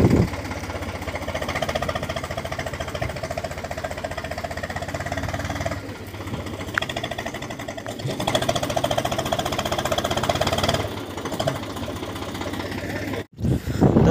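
A tractor engine chugs steadily and close by while slowly towing a trolley stuck with a collapsed tyre, its knocking, mechanical rhythm running continuously with a brief dip midway and a sharp cut near the end.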